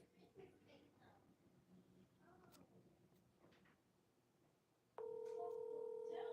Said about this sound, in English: Come on and answer the phone.